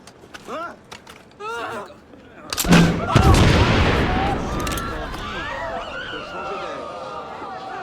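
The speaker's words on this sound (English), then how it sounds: "That's really funny, having the citizens react to the explosion." An explosion in Assassin's Creed Unity, set in 1794 Paris, bursts loudly after a stretch of talk, followed by a long rumbling tail with crowd shouts and reactions layered over it.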